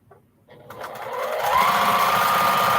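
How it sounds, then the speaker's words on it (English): A sewing machine stitches 2.5 inch fabric strips together, starting after a brief pause and then running steadily and fairly loud with a rising whir that settles into an even hum. "I'm just gonna sew them up and use them"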